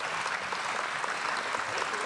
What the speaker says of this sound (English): I hope the applause means that you understood that